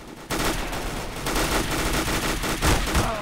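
Rapid burst-fire gunshots in Counter-Strike: Global Offensive, loud and close, cracking in quick repeated volleys that run almost continuously from start to finish.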